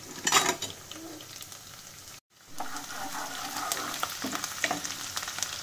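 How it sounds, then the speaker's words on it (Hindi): Finely chopped garlic, about 15 to 20 cloves, sizzles steadily in hot oil in a home kitchen while cooking chicken Manchurian, with a brief silent gap partway and occasional clinks of stirring. "थोड़ा सा लहसुन को हमें पका लेना है।"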